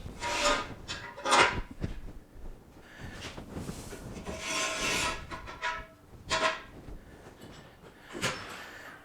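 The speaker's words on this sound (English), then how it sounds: "Now we'll pull out the stands." Jack stands are pulled out from under a 1998 Ford Ranger in a workshop, giving several close scraping and sliding metallic rubs in irregular bursts, fairly loud and with no talking.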